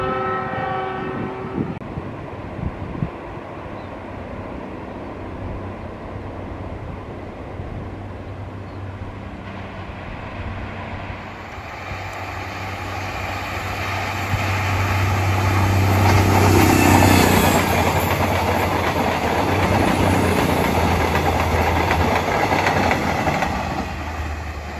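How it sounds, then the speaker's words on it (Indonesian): A KRDE diesel multiple unit trial train passes a trackside spot. The horn sounds near the start, then the rumbling, clattering train noise grows louder and peaks as it goes by. "sebentar lagi akan melintas KLB-nya atau uji coba KR di Bias."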